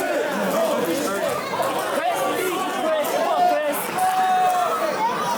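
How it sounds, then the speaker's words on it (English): The crowd at a live professional wrestling show keeps up a loud, continuous roar and chatter with shouts rising and falling, and it fills the whole moment without a break. "And listen to this crowd."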